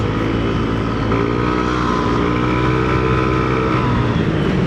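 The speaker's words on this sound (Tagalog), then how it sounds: "Naririnig nyo ba yung ating pipe ng silent killer?" Engine and exhaust drone of a Yamaha Aerox V3 scooter with an aftermarket pipe on a daily road ride, a steady loud hum with layered tones and no talk.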